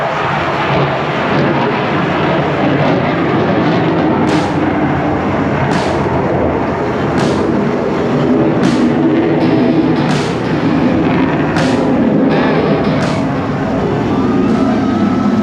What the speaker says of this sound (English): That was the F-22.